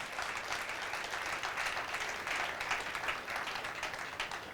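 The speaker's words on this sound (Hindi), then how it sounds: "ताली बजाना तो ढंग से बजाइए, जोर से बजाइए।" An audience at a Sunday church sermon bursts into sustained, steady applause, dense and even from start to finish, heard alone without any talking over it.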